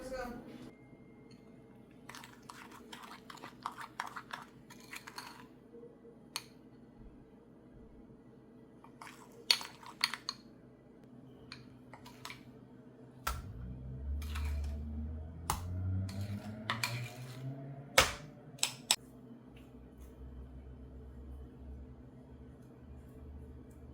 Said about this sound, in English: Mix that all together, and then I'm gonna spread it on the dough